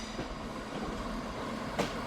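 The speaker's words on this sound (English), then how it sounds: "Arriving in now is a Scotrail service from Tweedbank, terminating here at Edinburgh" A ScotRail service from Tweedbank rolls into Edinburgh Waverley with a low, steady rumble of wheels on rail and a brief sharper squeal near the end.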